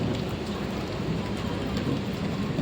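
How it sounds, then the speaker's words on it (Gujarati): Steady rain with low, rumbling thunder, heard as a continuous broadband wash at moderate level with no voices. "વીજળી થાય, હરુડવાનું ચાલુ છે। અને વરસાદને આવવાનું ચાલુ છે"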